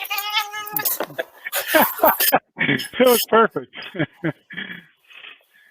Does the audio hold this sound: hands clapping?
no